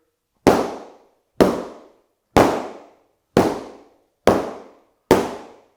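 Kali rattan sticks cracking together in the Heaven 6 drill, six sharp, evenly spaced strikes close by, each a crisp clack with a short ringing tail, heard alone.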